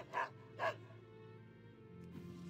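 A dog in World of Warcraft gives two quick, close barks in succession, followed by a faint whimpering tone under game ambience.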